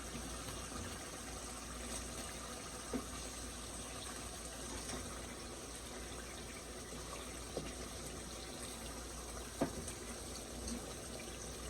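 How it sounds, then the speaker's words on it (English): Hot water poured into a pot of oxtail stew, a steady low gushing wash running throughout with a few small clinks, fairly quiet and without talk. "I'm gonna add a little bit of water in this side."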